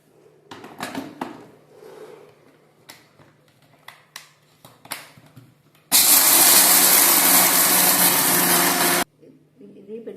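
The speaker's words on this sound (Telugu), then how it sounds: "ఇప్పుడు ఇవి మిక్సీ చేస్తున్నానండి పొడి చేసి పక్కన పెట్టుకుంటాను" Kitchen mixer grinder powdering roasted chana dal, a loud steady whir about three seconds long after scattered handling clatter, with brief talk before it.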